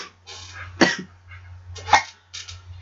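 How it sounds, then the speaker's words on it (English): Two short, sharp coughs sound close and fairly quiet, about a second apart, with soft breathy noises between them against a low hum. "About to cough again."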